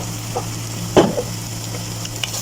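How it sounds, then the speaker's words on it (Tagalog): A large batch of onions fries in a pan, a steady low sizzle close by with a brief clatter of stirring near the middle, and no one talking. "i-fry natin yung ating onion na pagkadami-dami"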